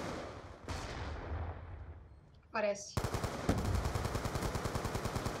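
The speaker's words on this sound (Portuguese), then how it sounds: "Tô com uma N94, que o tiro de dano com essa arma é uma coisa linda." An N94 rifle fires in Black Ops 2, first as a single shot, then as a rapid sustained automatic burst over game noise, with a brief spoken word just before.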